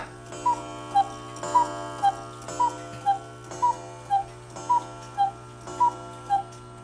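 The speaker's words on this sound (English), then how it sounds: "It's a very rare cage cuckoo clock from Germany." A rare German cage cuckoo clock from the Cuckoo Clock Manufacturing Company ticks steadily and close, its even tick-tock beats repeating about twice per second over a faint steady hum, with no voices.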